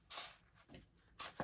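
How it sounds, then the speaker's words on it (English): Aerosol fixative sprayed close by onto a charcoal and pastel drawing, in two short hissing bursts with a brief gap between, the second burst trailing off into a softer puff. "Okay, then I'm going to go ahead and spray it."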